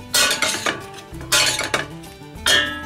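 Ribbon pasta is tossed in a pan with salmon and butter, giving bursts of clinking and scraping as a utensil strikes the metal pan in a few uneven strokes, close and clear.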